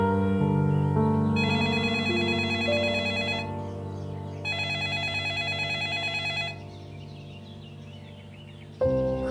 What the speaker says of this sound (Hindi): खाला अभी अम्मी फोन उठा नहीं रही है